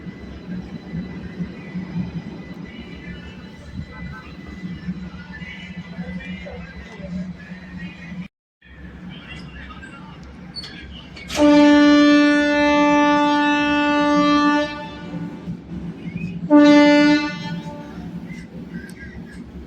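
A passenger train on the Veraval to Bhavnagar line departing Khakharia station, with a rumbling running background, then a long loud horn blast followed by a shorter second blast.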